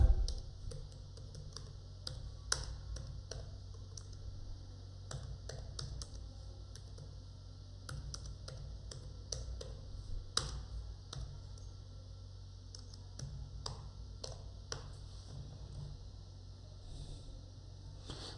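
Close, steady typing on a computer keyboard in Microsoft Word, with irregular key clicks and occasional louder taps over a faint background hum.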